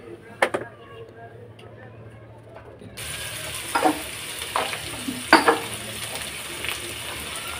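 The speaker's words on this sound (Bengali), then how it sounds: "তো পেঁয়াজের কলি দিয়ে এটাকে আমি একটু ভালো করে নেড়ে চেড়ে নেব।" Spring onions fry in a pan with a constant sizzle that starts after a quiet opening. A spatula scrapes and clacks against the pan in several separate strokes while a voice talks at times.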